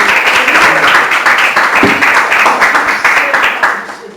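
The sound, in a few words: congregation applauding in church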